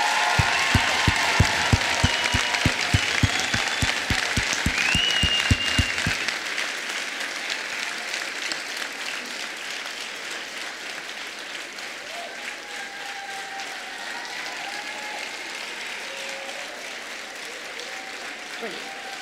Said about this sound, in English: can we have a big round of applause for all the people who supported us?